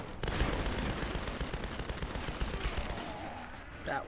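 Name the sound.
gunfire in Tomb Raider (2013) video game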